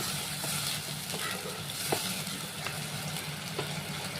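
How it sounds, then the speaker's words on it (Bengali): A spiced masala mixture with a little added water sizzles in a pan, a soft steady frying hiss with occasional light scrapes of a spatula, fairly quiet and close. "এবার আমি একটু জল দিয়ে দেবো, অল্প একটু দিয়ে আমি এবার এটাকে ঢেকে ঢেকে খুব সুন্দর কষাবো।"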